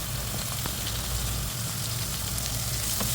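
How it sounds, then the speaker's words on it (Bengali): Chopped onion fries with cumin seeds in about three tablespoons of hot oil in a wok, giving a steady, close, even sizzle throughout with no voices. "এখন পেঁয়াজ নরম হয়ে আসা পর্যন্ত ভেজে নেব"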